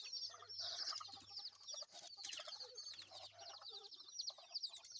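Several chickens cluck and chatter nearby in overlapping bursts, with a low steady hum underneath.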